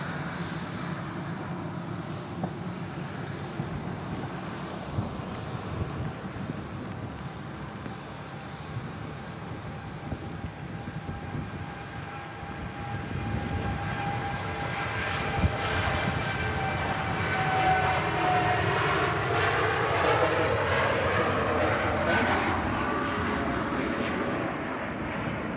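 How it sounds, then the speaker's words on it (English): A Boeing 787 Dreamliner takes off down the runway at Manchester Airport, its steady jet engine roar building from a distant rumble into a loud, sustained whine with rising tones, heard alone without talk. "Lovely 2E787 rolling down the runway"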